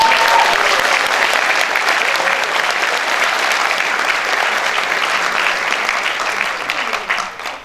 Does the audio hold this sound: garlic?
no